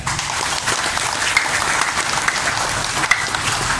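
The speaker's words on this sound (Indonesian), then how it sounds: "Tepuk tangan untuk kita." Crowd at a political rally for a Bekasi mayoral candidate claps in a dense, even burst of applause lasting about four seconds, with a couple of sharper claps standing out.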